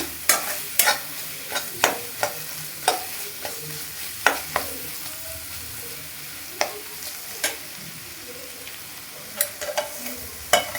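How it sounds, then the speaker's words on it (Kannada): Tomato rice masala fries in hot oil while a spoon stirs it, giving a steady soft sizzle broken by a dozen or so sharp scraping clicks of the spoon against the pan at irregular intervals. "ಇದನ್ನು ಚೆನ್ನಾಗಿ ಫ್ರೈ ಆಗಲಿ."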